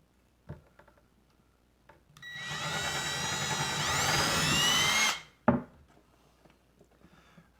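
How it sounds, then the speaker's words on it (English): A power drill boring pocket holes into a board backed by a scrap board to prevent blowout, a sustained whining drill run of about three seconds bracketed by a few sharp clicks and knocks. "I'm going to be drilling into another board."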